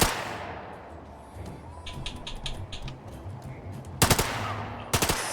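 Gunfire in The Lamplighters League video game comes as two short, loud bursts near the end, each a crisp crack, set after a stretch of faint, ticking background sounds.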